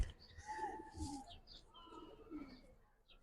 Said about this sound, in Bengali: দেখেন ভাই একদম চিকন ফেদারের কবুতর